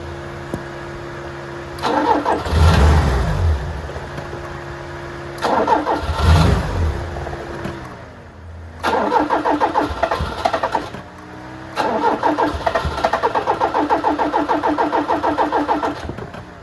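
A Fiat 131 engine cranks in repeated starting attempts after sitting for 20 years, with loud bursts of starter grinding and rough catches, and a Land Rover engine runs alongside to support the battery.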